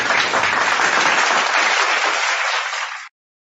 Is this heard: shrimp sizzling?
no